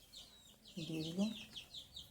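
Chickens give a short burst of clucking about midway, close and moderately loud, while caged pet birds chirp steadily and faintly in the background.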